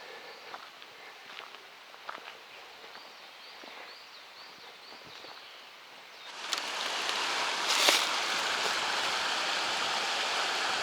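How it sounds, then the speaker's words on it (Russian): Snowmelt water rushes down a mountain stream, starting faint and distant among footsteps and rustling, then swelling into a loud, close, steady roar. "Бежит поток"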